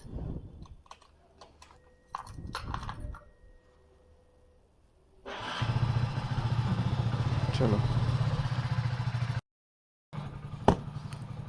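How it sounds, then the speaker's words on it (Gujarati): A motorcycle is started on a cold winter morning and left idling to warm up, a steady low engine rumble that runs for several seconds after clicks and handling noises, then briefly cuts out before resuming. "પહેલાં બાઇક ચાલુ કરી દઈએ, ગરમ થઈ જાય."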